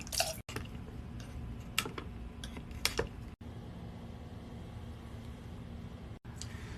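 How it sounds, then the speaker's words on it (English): Water splashing and dripping as resin 3D prints are rinsed of alcohol in a tank of clean water, soft irregular sloshes and drips with a few sharper splashes, close and alone. "we're gonna bring them over to our tank. We're gonna wash off the extra alcohol. This is just clean water."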